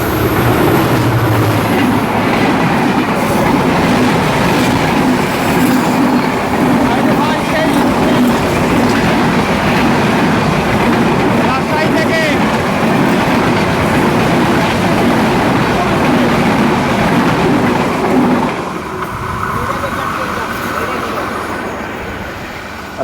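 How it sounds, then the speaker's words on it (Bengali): Train at Mahera station crossing another train from Rajshahi, a long loud rumble of passing railcars and wheel clatter close by, easing off toward the end with quieter running; voices sound faintly underneath. "রাজশাহীর একটি ট্রেনের সঙ্গে ক্রসিং হয়ে গেল এই মহেরা স্টেশনে।"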